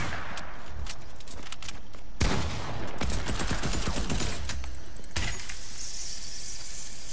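Loud video game gunfire in Fortnite, with dense rapid bursts of shots and impacts rattling almost without pause throughout, and no talking.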